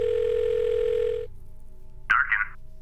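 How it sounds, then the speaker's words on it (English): A steady telephone dial tone from The Blackwell Deception video game hums for about a second, then cuts off, followed by two short electronic beeps, clear and close. "I'm going to call Sam for a second."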